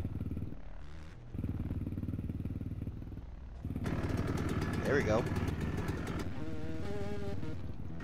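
Two-stroke Yamaha YZ125 dirt bike engine in a Roblox motocross game, a buzzy revving drone that steps up louder midway with rising and falling pitch sweeps, heard under someone talking.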